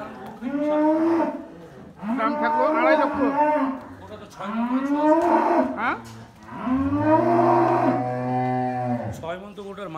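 A large beef cow at a busy cattle market moos loudly and repeatedly, with long, drawn-out bellows in close succession while people talk nearby.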